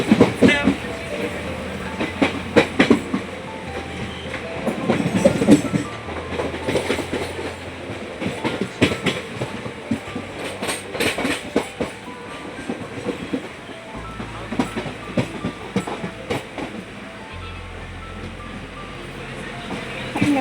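A passenger train pulls into Burdwan station with a continuous rumble and irregular clicks and clatter of wheels over the rails. The train slows and quiets toward the end, with faint voices in the background.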